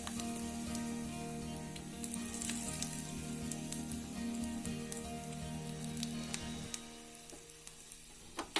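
Mustard seeds sizzle and pop in hot ghee while making pazham pulissery, a steady close frying hiss with scattered crackles that eases toward the end, heard with no talk.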